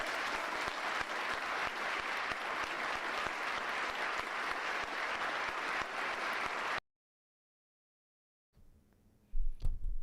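A crowd at a Memorial Day event in New York City bursts into loud, sustained applause right after a speech ends, steady clapping for several seconds before cutting off into near silence.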